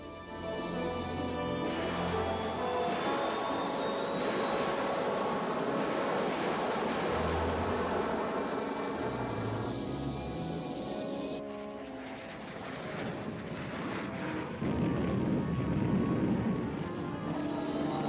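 Propeller aircraft engines drone loudly and continuously overhead, a steady rumbling roar with a rising whine, like Allied B-29 bombers and fighter-bombers over Korea; no one speaks.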